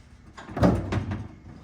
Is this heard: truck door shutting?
yes